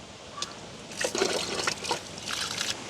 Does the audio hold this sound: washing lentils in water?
yes